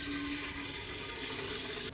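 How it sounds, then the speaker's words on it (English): Water runs steadily from a tap as a kettle is filled for brewing mate tea, a continuous close hiss that cuts off abruptly just before the end. "Let me get some water."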